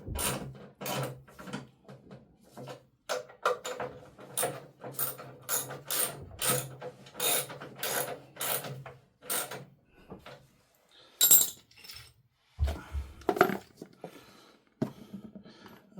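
Ratchet wrench tightening bolts up close, rapid bursts of crisp clicking in repeated strokes, pausing briefly before a few final clicks and clunks.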